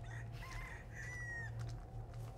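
A chicken in Resident Evil 4 Remake clucks and squawks nearby in a few short bursts over a low, steady ambient drone.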